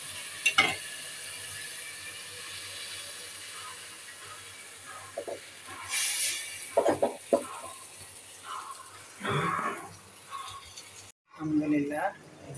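Mustard oil sizzles and crackles in a hot karahi while hilsa fish cooks, in uneven bursts of frying hiss broken by short clanks and scrapes of stirring, heard close.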